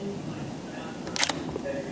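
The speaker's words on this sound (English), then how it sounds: "all we've got to do is just hit the shutter button, listen for the noise" A Nikon D5100 DSLR with an autofocus defect fires its shutter once, a short sharp mechanical click-clack of the mirror flipping up, heard close over a steady low room hum.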